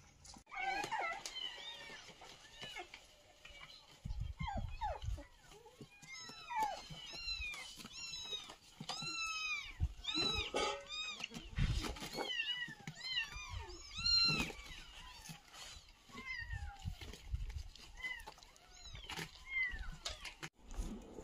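Abandoned stray cats, including Scottish Folds, meowing repeatedly outdoors, with many overlapping high mewls and cries of varying pitch throughout, some close and loud, mixed with rustling and occasional thumps.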